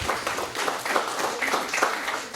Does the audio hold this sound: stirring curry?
no